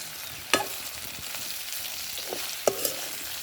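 Two chopped tomatoes hit a hot frying pan, giving a steady close sizzle with two sharper bursts of spattering as pieces land and are stirred.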